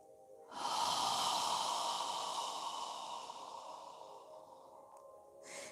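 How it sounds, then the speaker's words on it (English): One slow, controlled breath during a seated yoga session, a long airy exhale through the nose that starts abruptly, stays steady, then fades gradually, close to the microphone, with a faint new inhale at the end and no talk. "Slowly inhaling and slowly exhaling with control."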